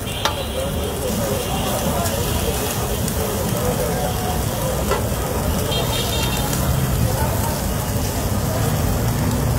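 Fish fillet sizzles over an open fire on a grill, a dense steady crackle and hiss lasting throughout, loud and close with no clear talk.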